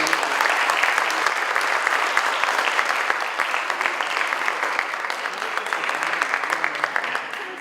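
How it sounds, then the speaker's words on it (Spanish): A conference audience gives a loud round of applause to welcome a speaker onto the stage, dense clapping at first that gradually thins into scattered, distinct claps as it tapers off. "Recibamos con un fuerte aplauso a Carlos Rojas"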